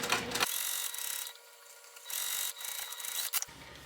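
A sewing machine stitching a curved seam joining two bag pieces, a close, steady mechanical whir running in stretches with a brief slowdown midway, no talking.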